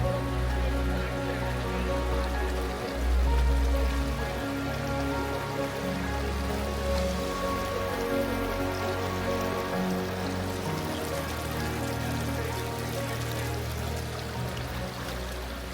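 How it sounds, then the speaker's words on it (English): Strong river current rushes steadily below High Force waterfall in Teesdale, a dense, continuous wash of water that stays even and moderately loud throughout. "Strong current here."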